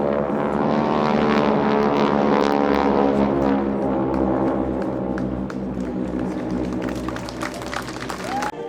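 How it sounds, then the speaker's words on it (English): World War II propeller aircraft passing overhead in a flyover at a veterans monument ceremony, a loud sustained droning roar of piston engines that swells and slowly fades, with crowd noise and applause beneath. "Ceremonies begin with a flyover of World War II aircraft."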